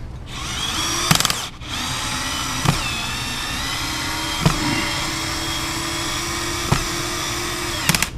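A power drill whines steadily as it drives screws during an air conditioner installation, a continuous motor drone broken by several sharp clicks and brief stops, close and loud, with no talking.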